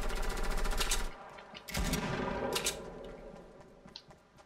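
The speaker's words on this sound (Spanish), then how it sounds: "¿Dónde están estos tiros?" Bursts of rapid gunfire in Fortnite crackle in quick clusters, loud at first and then fading into quieter scattered shots.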